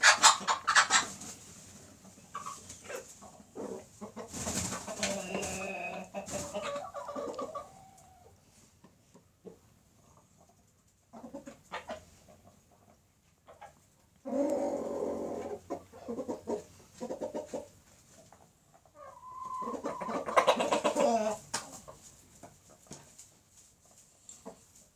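Hens on a poultry farm cluck softly in scattered, murmuring bouts separated by quiet gaps, with a few louder calls and a rooster-like crow in the mix.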